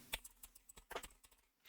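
A search query typed on a computer keyboard, about a dozen quiet, close keystrokes tapped in an uneven rhythm, with no talking.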